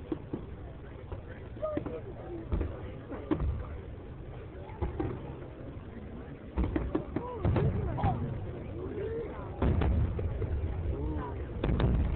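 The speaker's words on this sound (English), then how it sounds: "Seattle has some pretty nice fireworks." Fireworks bursting over Seattle on the Fourth of July, a run of booming explosions at varying distance, some close and loud, with crowd chatter and talking underneath.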